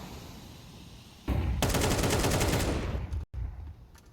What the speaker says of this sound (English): Bullets whizzing by Rops.